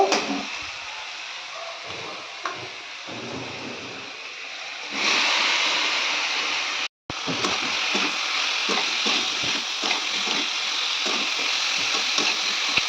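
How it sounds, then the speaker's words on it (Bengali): Ripe tomatoes fry in hot oil with five-spice, bay leaf and dried chilies, a steady bright sizzle with occasional stirring clatter that swells louder midway and briefly cuts out. "পাকা টমেটাকে একটু ভালো করে ভেজে নেব"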